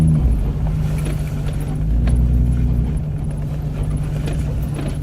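A vehicle rolls along a muddy hunting trail in the Clapper Hollow area, its engine a steady low rumble throughout, with faint rattles and squelches from the tires and no talk.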